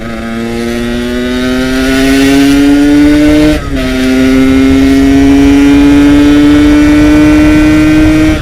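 Yamaha RX King motorcycle engine running steadily with a loud, buzzing two-stroke drone, briefly dipping as the throttle is blipped mid-way, then holding high again while riding on an empty road.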